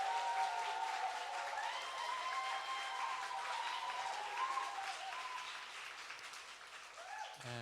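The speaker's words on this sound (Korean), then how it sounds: "모든 거를 참아주고 인내한 목사님과 사모님에게도 박수를 한번 드려요" A church congregation at a Sunday worship service breaks into sustained applause lasting several seconds, with cheering voices mixed in. The clapping fades and stops abruptly near the end.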